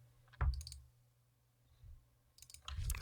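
Computer mouse double-clicked, faint quick clicks heard in pairs, one near the start and another near the end, against a quiet low hum.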